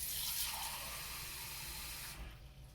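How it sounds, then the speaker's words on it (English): Tap water pouring steadily into a mug to fill it half full, a loud, close, continuous splashing rush that cuts off near the end. "we want to take this mug again and we want to fill it half full with water and add it"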